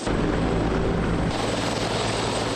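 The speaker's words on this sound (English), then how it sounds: "this time aboard a Canadian Forces helicopter" A Canadian Forces helicopter in flight, with a loud, steady rotor and engine roar that fills the whole stretch and stays constant without any talk.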